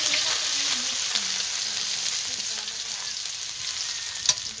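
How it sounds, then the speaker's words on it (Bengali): Chopped ginger and garlic fry in hot oil with a steady, close hiss, a faint scrape of the spatula now and then and one brief clack near the end. "এবার আমি এই তেলের ভিতরে দিয়ে দেবো আদা কুচি, দিয়ে দেবো রসুন কুচি"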